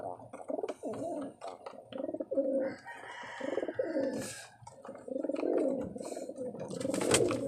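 Pigeons cooing while being fed, repeated throaty coos in close rhythmic bursts with a few short flutters and squeaks, near and fairly loud, no talk.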